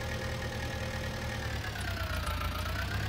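A tractor engine in Farming Simulator 19 runs steadily with a low, knocking diesel-like idle and a faint rising whine, constant and close with no voices.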